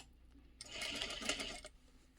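A short run of a sewing machine stitching delicate chiffon dress fabric: a rapid, even needle chatter lasting about a second, close and moderately loud, beginning and ending abruptly in a quiet room.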